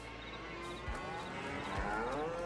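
Cows on a Farming Simulator 22 cow farm moo in a few drawn-out, low calls that rise over a steady pasture ambience, fairly close and alone.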